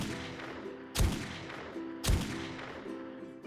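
Two loud, separate shots from a Magnum fitted with a red dot scope and flash suppressor in 7 Days to Die, each a sharp crack with a short decay, spaced about a second apart over a low background hum.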